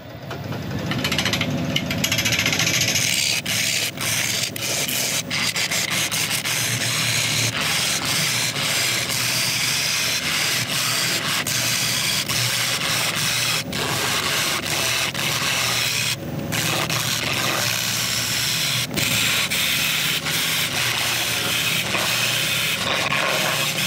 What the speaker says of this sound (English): I'm just going to sharpen up once more, because cutting across end grain is certainly hard on the ball gouge.